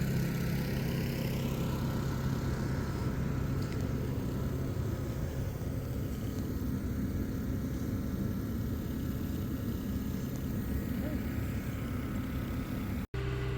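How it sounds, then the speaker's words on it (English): A tractor engine runs steadily outdoors in snow in Alaska, a continuous low, even rumble that stays unchanged throughout. "now it's time to take the tractor out and move some logs"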